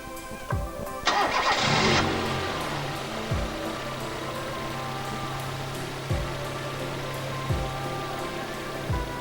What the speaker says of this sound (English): and then crank or start the engine.